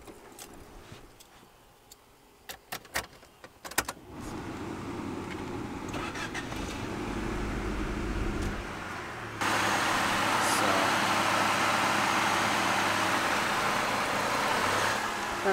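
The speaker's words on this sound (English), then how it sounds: "you gotta start the engine." A Honda Del Sol's engine cranks and catches, settling into a steady idle, then the running noise steps up louder and holds, with a few ticks and clatters before the start.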